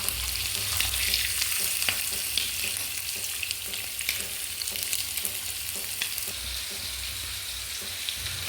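Steady sizzling of masala frying in a hot pan for prawn roast, with occasional stirring scrapes, continuous and close, no voices.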